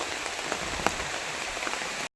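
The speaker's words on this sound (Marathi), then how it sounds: "बघा इकडे पाऊस पडायला लागलाय" Steady rain patters on a surface, a dense even hiss with scattered louder drops, cutting off abruptly at the end.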